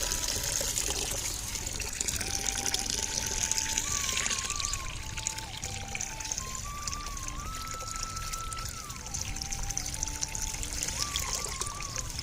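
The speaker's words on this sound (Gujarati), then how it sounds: "સૌથી પહેલાં પાણી ભરી દઈએ અને પછી પાણી છોટી દઈએ" Water runs and gushes steadily as it is filled and released to irrigate newly planted garden plants on a farm, a continuous trickling flow with a faint wavering mechanical hum beneath.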